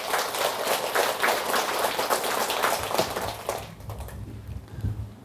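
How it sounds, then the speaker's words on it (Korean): Audience applause for a guest at a Buddhist monk's Korean dharma talk, a dense crackle of many hands clapping at moderate volume for about three and a half seconds before thinning out into low room murmur. "박수 한번 드리세요."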